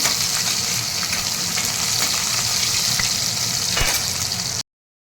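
Long-sliced onion dropped into hot oil for a mint and potato rice dish, a loud, close, steady frying hiss that runs without pause before cutting off abruptly.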